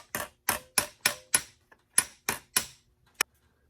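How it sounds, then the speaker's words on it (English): A hammer planishes metal on an anvil in a steady rhythm, about ten sharp ringing blows, close and clear with short pauses between them. "every time you hits the bottom and it goes ring, ding, you hear it ring"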